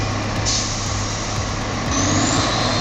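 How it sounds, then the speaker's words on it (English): A heavy logging truck engine roars steadily as it labours up a hill, loud and close, with a brief high air-brake hiss over the continuous drone. "Engine is screaming, black smoke pouring out. He is fighting for traction on that hill."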